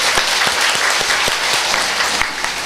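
An audience at a Shrimad Bhagwat Katha gathering at a temple in Lohaghat claps steadily, a dense even applause with a few distinct sharper claps, loud and close, filling the whole moment.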